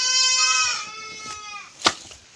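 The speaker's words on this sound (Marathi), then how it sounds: "बकर ओरडतेत" A goat kept at a farm field house gives one long quavering bleat at close range, fading out, followed by a sharp knock or clatter and quiet background.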